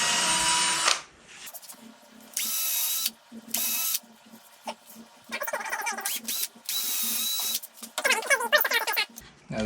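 A drill bores a pilot hole in wood for a screw in a guitar-making shop, sounding as several separate high whirring bursts with short quiet gaps between them.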